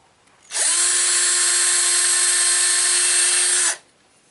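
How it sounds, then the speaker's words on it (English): A hand drill drilling through wood whirs steadily for about three seconds, starting and stopping abruptly, close and alone. "using just a hand drill, I'm going to go ahead and drill that the rest of the way through"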